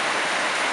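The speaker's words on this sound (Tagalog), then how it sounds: "Malakas ang ulan mga kabarangay." Heavy rain pours down in a steady, dense hiss with no pauses, loud and close.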